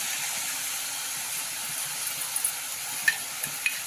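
Soaked chana dal is added to bottle gourd in a hot pan, producing a steady soft sizzle and hiss with a few faint clinks of a spoon toward the end.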